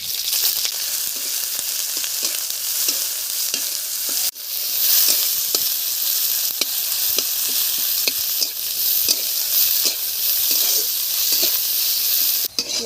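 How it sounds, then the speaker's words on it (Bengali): Onion fries steadily in hot oil with dried red chili and cumin, a dense continuous sizzle with light utensil scrapes, as koi fish curry is being prepared. "শুকনো লঙ্কা ফোড়ন দিলাম, জিরে ফোড়ন দিলাম, পেঁয়াজ তুলে দিলাম"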